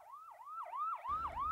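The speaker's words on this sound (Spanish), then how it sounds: "se irá acercando el sonido de las sirenas de policía" Police sirens approaching on a motorway: a close, clear wailing siren rising and falling in quick repeated sweeps, with a low engine rumble entering partway through.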